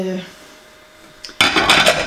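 Dishes being washed: after a brief voice and a quiet pause, plates and cutlery suddenly clatter and clink loudly together at close range.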